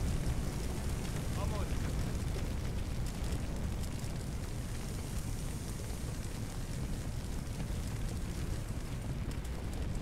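A blaze in a firefighting simulator game produces a loud, continuous roaring and crackling rumble that holds steady throughout, with voice faintly present underneath.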